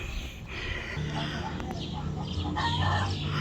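Hens clucking and a rooster's call sound close up on a homestead, the rooster named Romeo calling for a missing rooster after a dog attack on the flock, with continuous clucking and a person talking over it.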